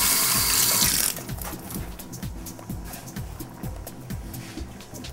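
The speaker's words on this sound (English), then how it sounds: "Let me just rinse my hands." Hands are rinsed under a running kitchen tap, a loud gush of water at first, then quieter splashing and trickling into the sink.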